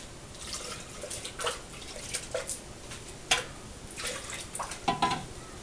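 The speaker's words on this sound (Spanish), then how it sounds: "Se enjuaga la licuadora." A blender jar is rinsed with water in a home kitchen, with splashing, sloshing and dripping in uneven bursts at close range and no speech.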